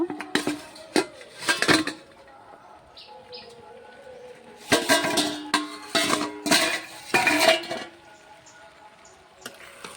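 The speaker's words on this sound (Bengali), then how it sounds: "আমি এখন ঢাকনা চাপাটা খুলে দেখব" A metal lid taken off a cooking pot simmering on a low flame: bursts of clanking and rattling come in two clusters, with faint bird chirps in the quiet background between.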